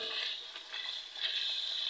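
Beef in yogurt and spices sizzles steadily in a pan while frying for karahi, a continuous close hiss with a soft stirring scrape and no talking.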